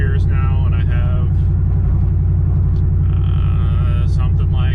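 An engine-swapped truck driving, a loud, steady low engine rumble with constant road drone throughout, close and unbroken.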